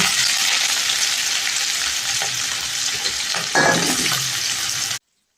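Sliced onions fry in oil with cinnamon, cloves and bay leaf for a vegetable kurma, giving an even, fairly loud sizzle with a few stirring scrapes before it cuts off abruptly.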